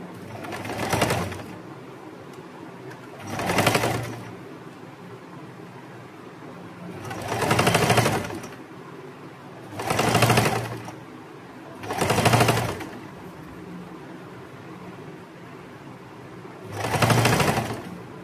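A sewing machine stitches the pocket sides of a kurti lining in six separate bursts of rapid, loud whirring, each a second or two long, with quieter handling gaps between them.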